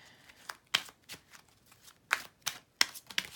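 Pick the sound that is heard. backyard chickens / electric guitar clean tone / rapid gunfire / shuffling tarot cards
shuffling tarot cards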